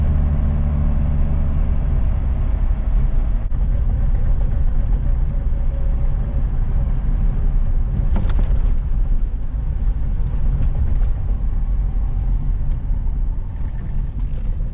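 An old car, left forgotten for 20 years in a paddock, drives along in third gear, its engine a loud, steady rumble that carries on without a break for the whole stretch.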